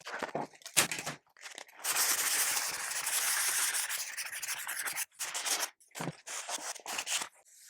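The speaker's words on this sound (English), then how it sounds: "a little bit of sandpaper on there really helps" Sandpaper rasping against a surface in short strokes and longer passes, broken by brief pauses, close and fairly quiet.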